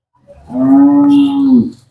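A single long, loud moo from a dairy cow that has recently calved, with a steady low pitch, lasting about a second, clear and close with no other sounds around it.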